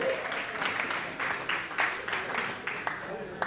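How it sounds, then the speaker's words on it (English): Audience applause at a fundraising gala dinner for an honoured guest, fairly faint and distant, with separate claps standing out over a low murmur of voices. "Give him a round of applause, please."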